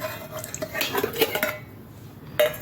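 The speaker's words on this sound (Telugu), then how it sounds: "ఇదిగో మిక్సీ గిన్నెలో వేస్తున్నాను" Boiled gongura leaves scooped into a mixer jar, close metallic clinks and scrapes of a spoon against steel with soft thuds, in short bursts with a pause before a final clink.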